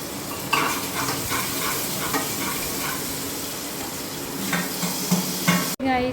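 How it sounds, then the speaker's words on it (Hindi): Onion frying in pure cow ghee in a home kitchen gives a steady, close sizzle with stirring scrapes throughout, ending in a brief abrupt break. "तो फटक से मैं प्याज डाल देती हूँ, दोनों फ्राई हो ही जाएगा अपने आप"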